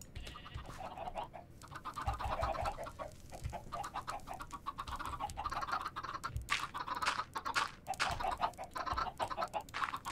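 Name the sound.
many chickens clucking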